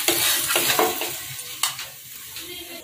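A paratha frying in a pan, with a soft steady sizzle under scraping and stirring scrapes and a few light clinks of a utensil against the pan, close and brief, no talking.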